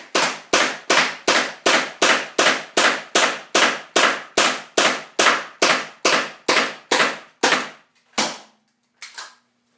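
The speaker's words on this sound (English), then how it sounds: "Still firing full power here. 20 rounds of mid-grade GI Sports," An M17 paintball marker fires mid-grade GI Sports paintballs at full power in a rapid, even string of about twenty sharp cracks, each with a brief decay, followed by a pause and one or two final shots.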